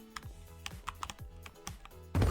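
Keys clack on a computer keyboard during a Minecraft building stream, a quick irregular run of sharp taps close to the mic, ending in a louder burst of noise.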